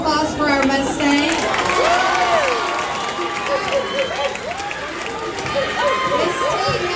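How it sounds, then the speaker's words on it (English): A crowd, including excited children, applauds at a surprise celebration with a mascot, clapping mixed with cheers, shouting and nearby talking voices. "Let's give a round of applause for our Mustang."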